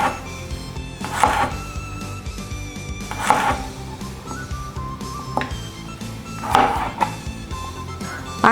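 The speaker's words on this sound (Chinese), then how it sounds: "把小黄瓜切成条状" A knife chops cucumber into strips on a cutting board, with a few sharp, distinct knocks spaced a couple of seconds apart over steady background noise.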